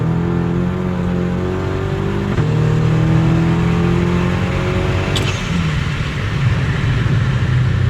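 A Volkswagen GTI with a tuned stock engine and new ECU and TCU software revs hard and accelerates close by, its loud engine note climbing in pitch, dropping briefly at a gear change, then pulling again.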